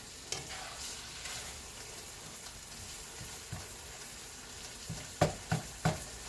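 Ground meat for sloppy joes sizzles quietly in a frying pan while a utensil scrapes and breaks it apart, with soft intermittent stirs and three sharp taps on the pan near the end.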